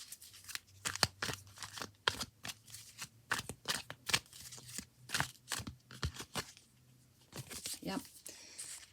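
Tarot cards shuffled and drawn by hand, a run of quick, close crisp riffles and flicks in an uneven rhythm, with a voice talking softly alongside.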